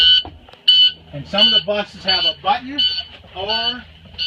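A school bus alarm chirps in short, repeated high-pitched beeps during a pre-trip inspection, heard alongside someone talking close by throughout.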